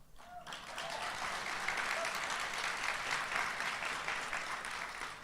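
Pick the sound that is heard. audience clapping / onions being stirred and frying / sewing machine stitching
audience clapping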